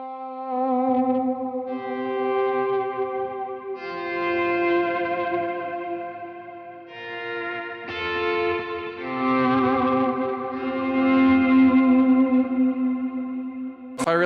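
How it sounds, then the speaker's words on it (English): Sustained electric guitar notes swell in gradually, washed in reverb and echoing delay, layering into a shimmering, slowly evolving texture. "I'm gonna turn on my reverb and some delay, just so you can hear the effect."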